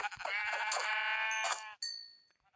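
Sheep bleating in a Stone Age–themed video game, one long wavering bleat followed by a shorter second bleat that fades out, clear and close with no talking.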